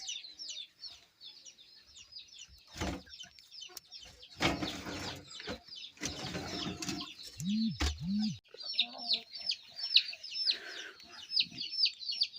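An Aseel Amrohi hen clucks in short repeated bursts near the listener, with bursts of other noise in between and a couple of lower calls.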